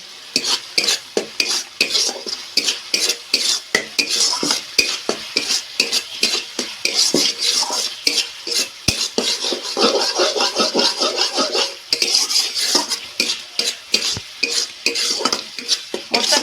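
Raw banana kofta curry masala with chilli powder being stir-fried in a pan: a busy, close stream of rhythmic spatula scrapes and clatters over a continuous sizzle.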